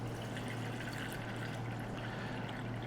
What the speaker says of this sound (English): the first thing we really need to do is add water